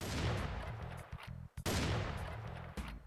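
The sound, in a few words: shotgun firing in Serious Doom video game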